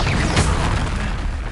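A deep booming burst sounds in Hogwarts Legacy as the Incendio fire spell is cast, loud and close, with a roaring swell that fills the short moment.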